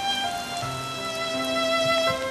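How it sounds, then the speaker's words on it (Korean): A sudden passing rain shower patters steadily throughout, a soft continuous wash of drops, while steady tonal hums from a drama's background music run underneath. "지나가는 소나기일 거야."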